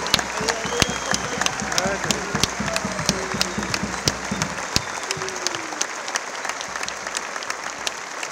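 A crowd at an end-of-season ceremony applauds loudly and continuously, a dense wash of clapping with sharp individual claps standing out and whistled or cheering tones drifting through it.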